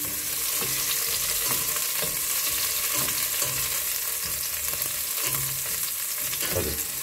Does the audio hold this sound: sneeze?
no